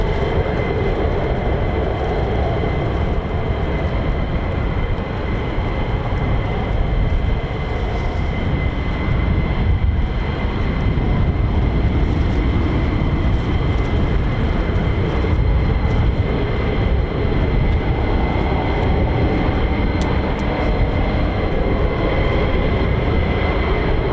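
A V-22 Osprey tiltrotor flies in the background near an air base, a steady broadband rotor and engine drone that holds evenly throughout with no talk.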